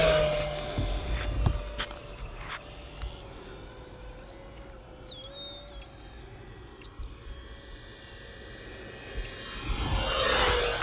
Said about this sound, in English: You can hear the plane.